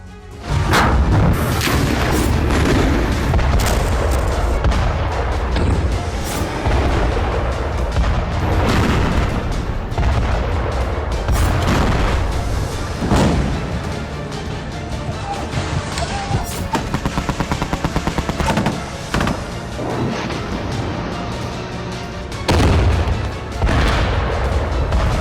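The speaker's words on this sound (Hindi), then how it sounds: "गाजा जल रहा है, इजरायल लगातार बम बरसा रहा है।" Heavy bombing and gunfire in Gaza: loud, repeated booms and crashing blasts strike every few seconds over a constant rumbling roar, with no voices.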